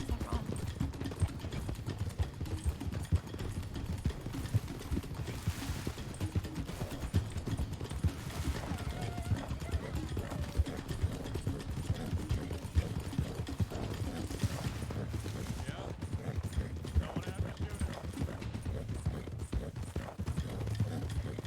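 Steady, rapid clip-clop of horse hooves galloping in Red Dead Redemption 2 roleplay, a thoroughbred running at speed, faint and continuous across the whole stretch with quiet voices now and then.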